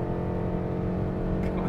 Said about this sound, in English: She's okay, noisy. Can you hear the engine?